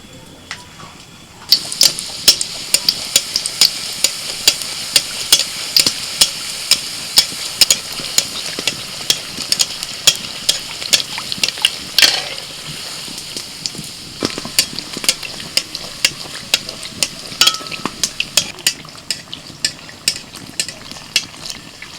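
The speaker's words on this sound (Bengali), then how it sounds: "এবার একটা করে কচুরি ভেজে নেব" Kachori stuffed with sattu and flavored with hing frying in hot oil, a continuous bright sizzle with frequent sharp pops and crackles, close and fairly loud, running steadily without speech.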